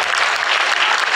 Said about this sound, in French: On applaudit encore bien fort Valérie.